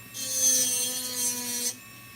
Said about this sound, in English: the key to this is to grind at the exact same angle that the seat is already cut at.